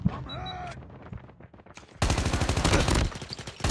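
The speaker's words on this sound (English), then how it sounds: "Oh my god, this gun is fast." Rapid automatic gunfire from a fast-firing gun in Call of Duty Mobile, with sparse shots at first and then a loud, dense burst of bangs in quick succession.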